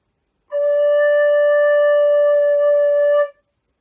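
A recorder sounds a single steady D, blown gently, held for about three seconds as a clean, pure tone with soft overtones, close and alone with no talk.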